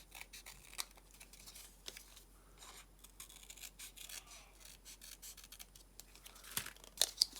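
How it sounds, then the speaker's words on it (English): Scissors trimming paper for a junk journal, with soft, irregular snips and rustling paper handling close by, quiet throughout, growing into a couple of sharper cuts near the end. "Actually, cut it to size a tiny bit more."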